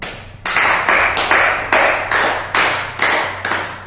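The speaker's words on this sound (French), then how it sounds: "Applaudissez pour vous encore" Audience clapping in rhythmic unison, about eight sharp loud claps spaced roughly half a second apart, each ringing briefly over a low steady hum.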